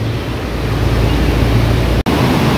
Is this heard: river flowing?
yes